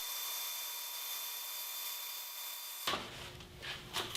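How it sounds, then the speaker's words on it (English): A bandsaw rips thin wood strips, roughly 25 and 50 thousandths of an inch thick, with a steady high whine that drops away after about three seconds into quieter scraping and handling noises. "I continue cutting wood strips about 25 thousandths of an inch thick and 50 thousandths of an inch thick"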